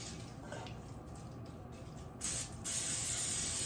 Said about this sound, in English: I have 2 pans here, and I'm just going to spray